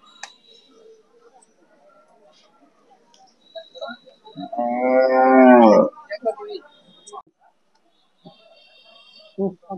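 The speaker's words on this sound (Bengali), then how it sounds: "শাহিওয়াল গরুটা দেখেন, এই যে খুব সুন্দর।" Sahiwal cattle at a rural cattle market in Jamalpur give one long, loud moo near the middle, with scattered faint market noise and brief talk around it.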